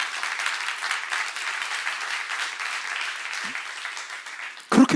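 A church congregation claps steadily through a Korean seminar session, a dense, even wash of applause that holds for several seconds before a brief louder knock and rustle at the end.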